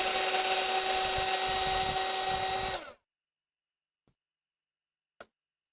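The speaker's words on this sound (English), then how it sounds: "Shrink wrapping." Shrink wrapping machine or heat gun running in a steady loud drone for almost three seconds before cutting off, followed by near silence with two faint ticks.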